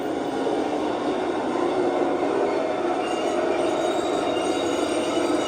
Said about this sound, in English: Track sounds.